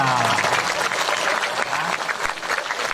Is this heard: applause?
yes